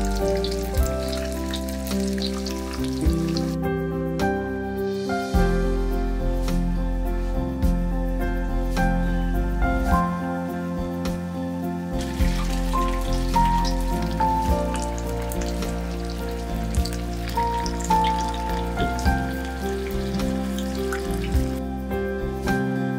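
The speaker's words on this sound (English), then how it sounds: "Mix it well and deep fry them." Marinated brinjals deep fry in hot oil with a steady, dense sizzle and crackle that runs the whole time, close and fairly loud, with no talking.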